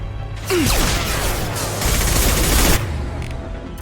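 Sustained gunfire in the video game Mass Effect 2, a dense, loud fusillade of rapid shots and booms that runs nearly continuously, with a whooshing streak early on and no talking.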